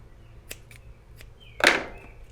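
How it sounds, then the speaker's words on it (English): Scissors snip through paracord strands on a bullwhip build, a couple of faint light clicks followed by one crisp, louder cut, close and alone. "Now I can give them a snip and a melt."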